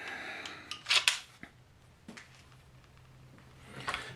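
Bolt being drawn out of a Mosin Nagant rifle, with a few sharp metallic clicks and a sliding clack close by, separated by quiet gaps and ending in a brief final rattle.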